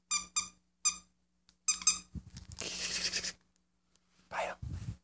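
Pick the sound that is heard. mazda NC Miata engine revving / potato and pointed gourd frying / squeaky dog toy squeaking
squeaky dog toy squeaking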